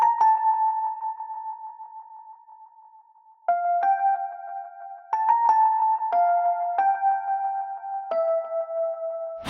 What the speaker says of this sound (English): The sound that I grabbed was this E piano I grabbed from Expand.